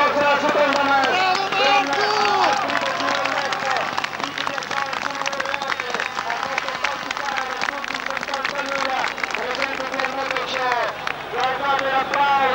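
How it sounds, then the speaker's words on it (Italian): Applause and cheering from the crowd at the 1989 Bologna Motor Show during the Memorial Attilio Bettega rally event: a continuous wash of clapping and crowd noise under a loud commentator's voice throughout. "Guardate l'applauso"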